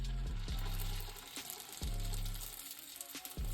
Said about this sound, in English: That sizzling sound, that sounded good.